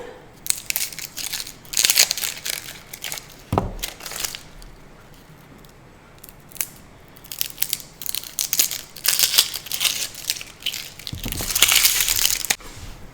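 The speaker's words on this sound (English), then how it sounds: "I'll take the skin off my onion." Papery onion skin being peeled away by hand, a close run of crinkling, crackling rustles coming in uneven bursts with brief quieter gaps, and no talking over it.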